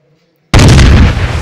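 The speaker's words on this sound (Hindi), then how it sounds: "जनाब ये धमाके और चीखों की आवाज सुनी?" A sudden, very loud explosion in an action short film bursts out of near silence and keeps roaring as a dense, booming blast.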